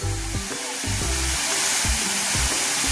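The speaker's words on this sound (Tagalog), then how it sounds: "Talaga pong ang lagas-las ng tubig ay napakaganda." Water rushing and falling at a clear waterfall on a farm in Tagkawayan, Quezon, a loud, steady broadband roar that fills the scene, with faint rhythmic low thumps underneath.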